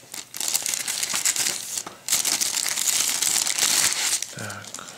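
Plastic bag holding a model kit's decals and instructions, for a Roden Fokker D VII aircraft kit, crinkles and rustles continuously up close as it is handled, with a brief pause near two seconds.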